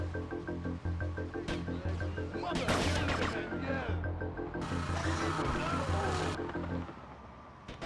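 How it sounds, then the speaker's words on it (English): An in-game explosion in GTA: Vice City, with bursts and crackling debris over a droning engine-like hum and game music, two heavy blasts roughly midway, while a player talks over it. "You don't know the force of this explosion."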